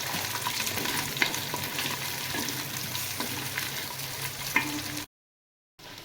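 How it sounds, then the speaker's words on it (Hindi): Sliced onions fry in oil in a clay pot, giving a steady, close sizzle with occasional louder pops and stirring clicks before a brief silence near the end. "पियाज को भल भाव में भाजी नवा"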